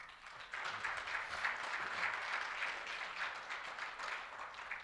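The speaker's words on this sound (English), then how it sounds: "I think that deserves an applause." An audience at a keynote address at the ADAO asbestos awareness conference applauds, a steady wash of clapping that holds for several seconds at moderate distance.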